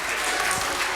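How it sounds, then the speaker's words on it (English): Audience applause at a fireworks event, a steady wash of clapping lasting the full second without pause, fairly close and even in loudness. "Give him a round of applause."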